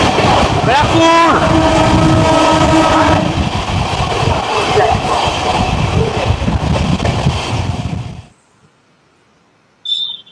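Passenger train, the 13125 Sairang Express from Kolkata, running through Barrackpore, heard from on board as a loud, steady rumble with wind buffeting and a brief high squeal early on, then dropping suddenly to near quiet.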